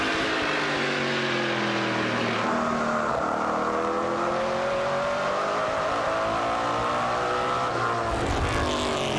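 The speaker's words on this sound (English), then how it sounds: "A Chevy, a Ford, and a Dodge in the top 3, racing pretty darn close together." Stock cars, a Chevy, a Ford and a Dodge running close together in a race: loud, continuous engine roar with several overlapping revving tones that rise and shift, unbroken by talk.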